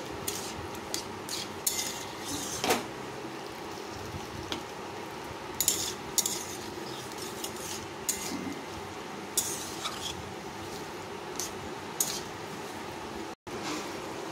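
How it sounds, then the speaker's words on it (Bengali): Food is stirred in a pan on a gas flame, with repeated metallic scrapes and clinks of a utensil against the pan over a low, steady frying hiss. "ভালো করে নাড়াতে থাকবো।"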